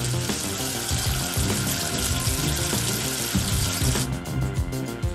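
Water runs and splashes continuously as soap is rinsed away in a cartoon sound effect, a busy, bright gush like a tap filling a sink, with a brief change in texture near the end.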